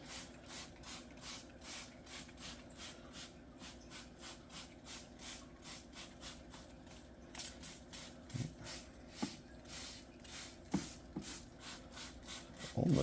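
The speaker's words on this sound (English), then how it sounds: "So let me give everything another spray." Spray bottle misting aquarium decor for a small 5-gallon tank, a steady run of rapid, evenly spaced hissing squirts, close and fairly faint, with a few light knocks near the end.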